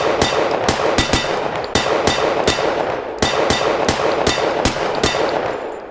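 Gunfire from the Practisim shooting simulator game, loud sharp reports in quick irregular bursts with bright metallic ringing tails, some pairs close together, no talking over them.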